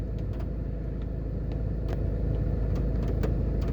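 Road traffic on Barbican Road in Jamaica, a continuous low rumble of passing vehicles with occasional sharper tyre and engine swells, steady and moderately near.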